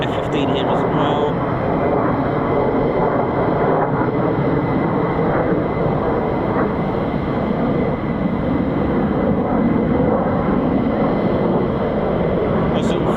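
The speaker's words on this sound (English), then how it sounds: "F-15s here, and I think there's an another one, yeah, F-15 here as well" An F-15 fighter jet at RAF Lakenheath, a loud, continuous broadband roar that holds steady throughout, with a person talking over it.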